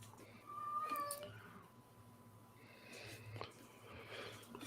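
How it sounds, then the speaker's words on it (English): A house cat meows in a quiet room, a short harmonic cry early on followed by faint softer mews and snuffling, heard close but quietly, with light background noise. "I can hear a cat."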